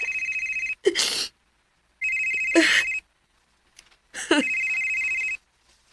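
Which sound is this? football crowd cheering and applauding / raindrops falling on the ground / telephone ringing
telephone ringing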